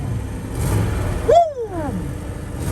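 The engine of a high-mileage Mercedes 420 SEL W126 gives one short rev that swells and then falls away over a low, rough idle rumble.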